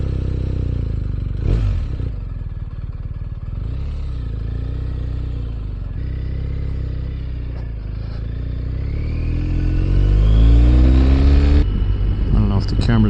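A BMW R 1250 RS motorcycle riding on a highway in warm weather, a steady close engine drone with wind rush that swells louder near the end, no speech.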